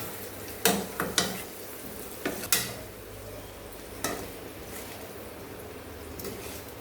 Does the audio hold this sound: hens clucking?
no